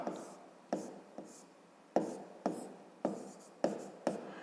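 A pen writes a maths solution on paper, giving quiet, close scratchy strokes in short separate bursts, roughly eight or nine across the stretch, with soft pauses between them and no talking.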